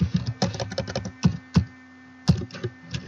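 Typing on a computer keyboard while entering a name in Revit, quick uneven runs of close, crisp key taps with brief pauses between bursts.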